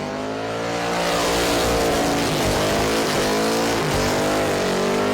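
A Holden Commodore V8 doing a burnout at an open-class burnout final roars loud and steady with a deep, low rumble that holds on without letup, and the revving rises and falls slightly throughout.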